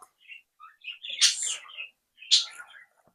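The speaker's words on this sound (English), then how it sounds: "I apologise for the noisy birds." Birds chirping in short bright bursts, a few scattered calls then two louder clusters of tweets, fairly close with no talking.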